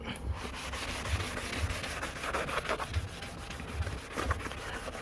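A cleaning pad rubs back and forth over a car headlight in an outdoor parking lot, rhythmic close scrubbing strokes repeating about once or twice a second, no voices.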